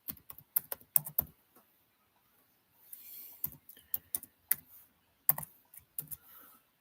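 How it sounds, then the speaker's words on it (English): Typing on a computer keyboard, close and clear, with short bursts of crisp key clicks separated by pauses and near-silent gaps in between. "I'm just going to type in a little thing here"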